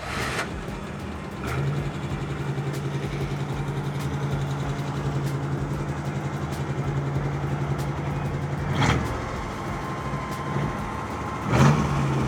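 A 1953 Ford F100 pickup with a 5-speed Tremec is driven with its exhaust cutouts open, its engine humming and revving at moderate loudness beneath steady road noise, with a couple of brief sharp knocks.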